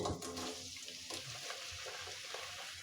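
Onions frying in oil in a wok for a spicy chicken-filled pitha, a steady close hiss of sizzling with faint stirring scrapes, no voices.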